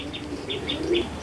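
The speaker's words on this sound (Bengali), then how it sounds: "চলুন কবুতর দুইটাকে একটু দেখাই দিই।" Pigeons kept as racing birds give soft repeated coos with brief bursts of wing flapping, close by and fairly quiet, over about a second.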